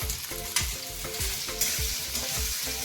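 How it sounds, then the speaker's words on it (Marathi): Cubed potato pieces sauté over medium heat with cumin seeds and green chillies, sizzling steadily with a repeated rhythmic scrape and clack of a spatula stirring through the pan. "छान असं जिरे आणि मिरचीमध्ये परतून घेऊया"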